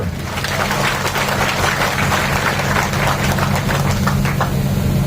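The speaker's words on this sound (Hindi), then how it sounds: "मुझे लगता है जोरदार ताली बजानी चाहिए" Loud, sustained applause from a crowd at a statue unveiling ceremony for a martyred soldier, continuous clapping close and dense throughout with a low hum beneath.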